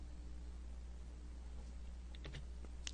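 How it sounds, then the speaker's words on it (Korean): Computer keys pressed, including Enter, during Photoshop CS2 editing: a few quick, faint clicks near the end over a steady background hum. "엔터를 치고"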